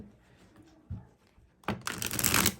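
Tarot cards being shuffled, with a few soft taps and riffles, then a brief burst of close, crisp card rustling near the end.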